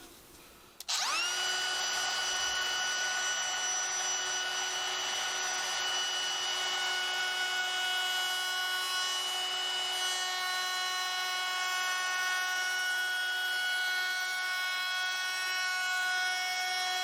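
A router fitted with a beading bit cuts a bead profile along the edge of a 1x4 board, starting abruptly and holding a loud, steady high-pitched whine with no speech.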